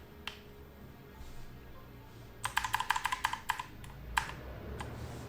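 Fast bursts of keystrokes on a computer keyboard without RGB lighting, a cluster of crisp clicks in the middle followed by one or two isolated taps, close and fairly quiet against a still room.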